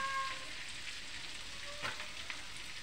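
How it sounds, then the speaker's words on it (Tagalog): Garlic sautés in butter in a pan, for a faint, steady, hissing sizzle with a brief soft scrape near the end. "Tinanggal ko po yung mantika, tapos naglagay po ako ng butter. Tapos, yan, bawang po. Nagigisa po ako ng bawang."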